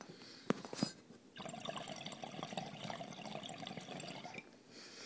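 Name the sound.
water bubbling in a bong during a hit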